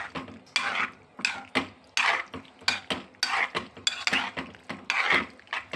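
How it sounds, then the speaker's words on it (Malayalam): Colourful pasta for Italian cheese pasta being mixed in a pan, a series of rhythmic scraping and clinking strokes of a utensil against the metal, about a dozen bursts, close and clear with no voices. "ഇത് നന്നായിട്ട് മിക്സ് ചെയ്ത് കൊടുക്കാം"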